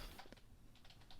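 Rapid computer-keyboard typing during a DC Legends mobile game session: a quick, uneven burst of light key clicks close up, with no voices.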